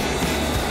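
A Rotterdam metro train runs with a steady, dense rumble and wheel noise, heard close from inside or beside the carriage, continuous and fairly loud with no voices.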